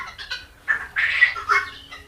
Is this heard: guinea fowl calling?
yes